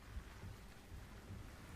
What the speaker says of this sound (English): This rain is gorgeous though.